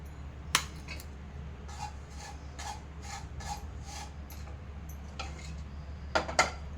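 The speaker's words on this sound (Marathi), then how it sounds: "खसखस मी असंच भाजून घेणार आहे." Poppy seeds roasting dry in a pan, stirred with a utensil for dry-fruit modak: quiet soft scraping with a few sharp metallic clinks near the start and end, no talking.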